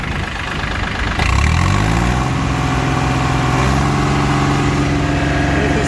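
A Yanmar F215D mini tractor engine starts up and settles into a steady, close idle, loud and continuous with a low rhythmic chug.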